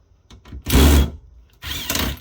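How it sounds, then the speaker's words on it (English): A power drill with a number 2 Phillips bit, driving a screw on an HP Pavilion all-in-one PC's CD drive, whirs in two short bursts, the first louder and longer, with faint clicks between. "the CD drive does require a Phillips screw to remove. Let's do this with the drill."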